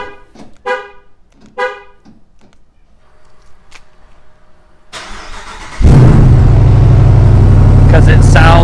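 Pickup truck with a damaged catalytic converter starts up: a few cranking bursts, a pause with faint noise, then the engine catches and settles into a loud, harsh, steady rumbling idle close by.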